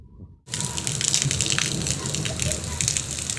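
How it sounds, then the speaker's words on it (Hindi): Dense, heavy downpour in a village during a storm, roaring steadily after a brief quiet start, a thick wash of water noise with no letup. "बहुत ही शदीद किस्म की बारिश हो रही है"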